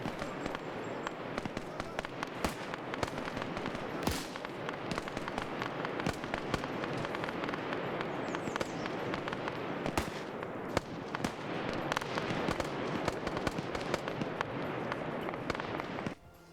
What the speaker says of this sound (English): there's the results of that bomb coming in